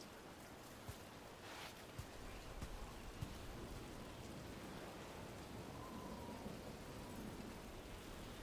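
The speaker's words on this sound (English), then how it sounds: "Do not stay out too long in the storm." Rain and thunderstorm in the video game Dragon Age: The Veilguard, a soft steady wash of rainfall with faint distant rumbles and a few light taps, quiet and continuous.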